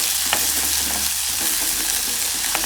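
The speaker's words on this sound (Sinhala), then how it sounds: "රම්පේ කඩපිංචා ටික මම එකතු කරගෙන හොඳට මේ ටික තෙලේ ටෙම්පරාදු" Chillies, tomato, pandan and curry leaves frying in hot oil for a Sri Lankan soya meat curry, with a steady loud sizzle and occasional scrape of stirring throughout, no voices.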